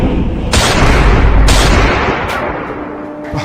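Loud gunshots ring out in a comedy skit, two or three heavy booming blasts in quick succession, each trailing off into a rumbling echo, with no talking over them.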